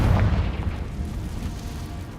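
Confringo spell blast in Hogwarts Legacy, a loud booming explosion that hits hard at the start and then rolls into a sustained rumbling roar over the remaining two seconds, with no talk.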